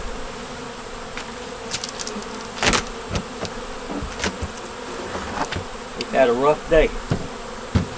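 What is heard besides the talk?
honey bees buzzing at hive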